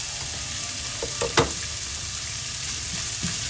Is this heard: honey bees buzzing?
no